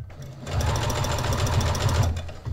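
A sewing machine runs steadily around a stocking seam, a close, continuous whirring motor with rapid needle chatter that starts after a brief pause and stops near the end, with no talk.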